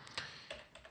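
Light, sparse keystrokes while typing code on a computer keyboard, a few soft clicks spaced irregularly, quiet and close with no speech.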